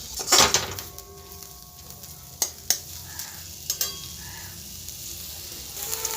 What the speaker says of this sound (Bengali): মশলা আর আলুর সঙ্গে ভালোভাবে মিশিয়ে নেবো কলমি শাকটা। মশলাটা ভাজা হয়ে যাবে।